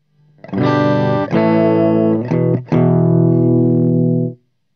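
A clean electric guitar plays a few sustained chords, each ringing out clearly before the last one stops abruptly.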